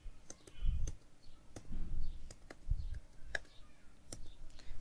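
Keys clack on a computer keyboard as a word is typed, sharp separate clicks in an uneven rhythm, close and clear, with soft low thumps and faint room noise between strokes.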